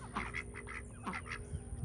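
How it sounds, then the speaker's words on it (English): Baby ducks quack and peep in a quick series of short, soft calls, fairly close but faint, in a quiet outdoor garden setting. "Look at the baby ducks."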